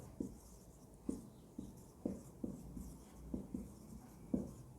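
Chalk or marker strokes on a board during a fluid mechanics lecture, a steady series of short tapping scrapes about every half second, fairly faint in a quiet room.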